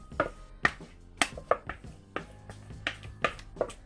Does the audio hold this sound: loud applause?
no